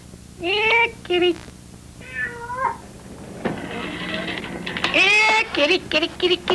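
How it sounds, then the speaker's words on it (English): A cat meows several times in drawn-out, rising and falling cries, with a voice talking alongside and some clicking in the background. "Yeah, kitty, kitty, nice kitty. Meow, meow, meow."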